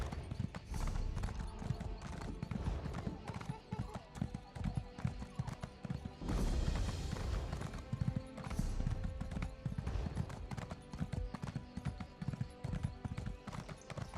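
Rapid, rhythmic hoofbeats of a horse in the video game Elder Scrolls Online clip-clop steadily over a busy background, with a whinny briefly midway; the sound is fairly quiet overall.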